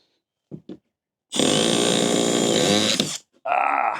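Cordless power drill zips a screw into a wooden log in one sustained loud burst of whirring, after a couple of short trigger blips and followed by another brief run.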